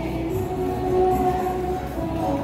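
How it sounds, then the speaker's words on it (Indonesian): Mutiara Selatan passenger train standing at Madiun station, a steady low rumble with a sustained tonal hum, close and even throughout, no voices. "kereta api Mutiara Selatan saat ini sudah tiba di stasiun Madiun"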